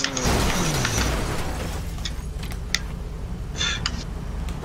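A car crash in the video game GTA V: a heavy crunching impact with scraping metal and debris rattling, followed by scattered clicks and knocks as the wreck settles, loud and near.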